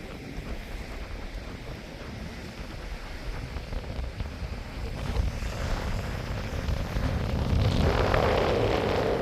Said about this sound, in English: The wind is holding it back a lot.